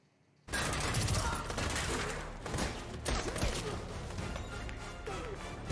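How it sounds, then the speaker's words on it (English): Hand grenade explosions and gunfire in a war scene from the 2021 James Bond film No Time to Die, a dense, loud barrage of blasts and crashes that begins abruptly and rolls on continuously. "Everyone's got a hand grenade."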